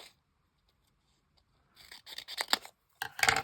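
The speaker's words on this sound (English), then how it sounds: "And I'm just gonna trim." Scissors trimming a piece of thin cardstock, two short bursts of crisp close snipping separated by a brief pause after near silence, with no voices.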